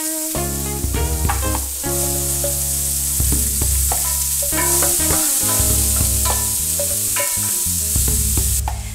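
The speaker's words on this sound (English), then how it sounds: "we're going to add those carrots, celery, and onions, and a couple of garlic cloves, and just let that cook in there for a couple of minutes." Carrots, celery, onions and garlic cloves sizzle steadily in a pan, with repeated stirring scrapes and clinks standing out over the frying hiss. The sound stays close and loud throughout, and nobody speaks.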